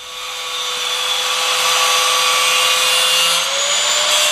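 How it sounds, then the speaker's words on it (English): A power tool trimming screws off while mounting a GoPro Wi-Fi remote, a steady high whine that holds near and loud for several seconds with a slight rise in pitch toward the end. "Let's trim these screws off."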